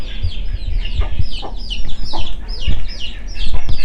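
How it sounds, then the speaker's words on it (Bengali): Chickens cluck repeatedly in a farmyard where they roam and peck at grass, the short upward calls coming in a steady stream against a constant low rumble. "এখানে আমাদের আর একটা মুরগি"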